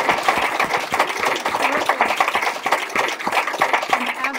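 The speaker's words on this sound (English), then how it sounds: "please let's give a round of applause to our filmmakers" An audience applauds filmmakers at a film discussion event, dense sustained clapping from many hands throughout, fairly loud and close.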